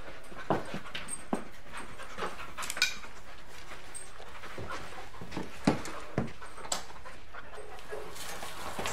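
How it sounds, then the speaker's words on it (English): Police dog panting and whimpering during a raid on a flat, faint and close-by with soft intermittent whines and breathy pants over a quiet room background. "Send the dog in."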